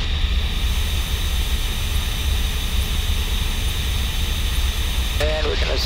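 Engine of a Cessna 172N in flight with power pulled back to 1900 rpm: a steady, loud droning hum filling the cabin throughout, with a brief change in the sound near the end.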